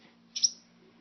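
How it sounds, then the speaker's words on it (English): Fledgling bird, newly out of its nest and perched on a house wreath, gives one short high chirp, close and fairly clear over a quiet low hum. "A brand new baby bird just left his nest."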